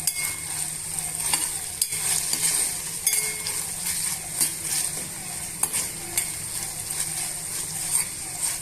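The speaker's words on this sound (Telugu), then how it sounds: "ఇప్పుడు ఇవన్నీ కూడా బాగా మిక్స్ చేసుకొని ఈవెన్గా మనం వేయించుకోవాలండి" Ginger garlic paste frying and being stirred in a pan for a ivy gourd masala gravy, a steady close sizzle with repeated scraping strokes of a spoon against the pan, no voices.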